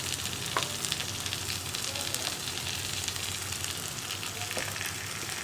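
Ground cashew curry paste sizzling in a hot pan, a continuous loud crackling fry with occasional light stirring scrapes, steady throughout and no one speaking.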